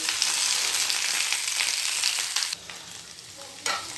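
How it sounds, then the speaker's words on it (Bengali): Chunks of capsicum sizzle and crackle in a hot pan as they are stirred, a bright continuous frying hiss with a few scraping clicks, dropping quieter briefly before flaring up again near the end. "ক্যাপসিকামটা আমি এই 1 মিনিটের মতন একটু নাড়াচাড়া করে নেব কফির সাথে।"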